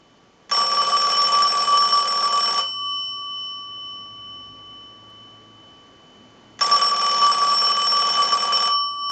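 A Western Electric Princess telephone rings from a test analyzer's ring cycle: two long bursts of bright electromechanical bell ringing, each about two seconds, separated by a quiet pause of several seconds, loud and close.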